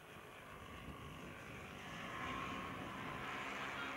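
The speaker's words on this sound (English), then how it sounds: "That was a flyby." A De Havilland Canada Dash 7 turboprop airliner makes a flyby at a 1986 airshow, a broad, steady propeller and engine roar that swells slightly as it passes.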